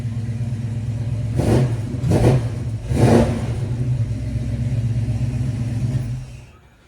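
A car engine idles with a deep, steady rumble, then revs sharply three times in quick succession before settling back and cutting off at the end; nearby and loud, no talking.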